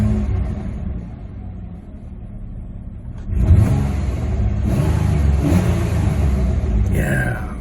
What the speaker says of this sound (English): You hear that? A little popping. Maybe it's got bad plugs.